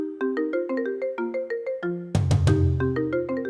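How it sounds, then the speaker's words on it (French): A phone ringtone plays a repeating electronic melody of short, bright notes, loud and close, interrupted midway by a burst of noisy clatter before the tune resumes. "J'ai entendu le téléphone sonner"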